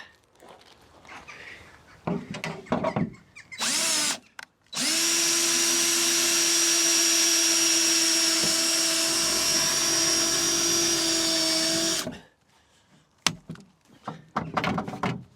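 A power drill drives a roughly one-inch self-tapping screw at an allotment, running loud and steady for about seven seconds with a constant whine, preceded and followed by short handling clatter and brief bursts.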